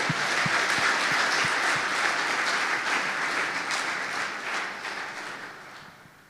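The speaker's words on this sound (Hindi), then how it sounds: "आइए उस परमेश्वर के लिए जोरदार ताली बजाएं" A church congregation bursts into loud, sustained applause during a sermon, the clapping dense and even before slowly fading toward the end.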